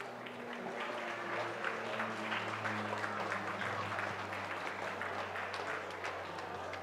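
A conference audience at the Paris Air Show's space hub applauds a speaker, a steady moderate patter of many hands clapping at some distance over a low hum of room noise.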